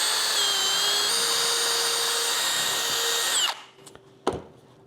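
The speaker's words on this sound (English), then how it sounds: "We can take our drill and drill through the guide holes here on the back side." A power drill bores pocket holes through wooden boards held in a jig while building a mobile chicken coop, running in a steady high whine for several seconds before cutting off, followed by a brief knock of the tool.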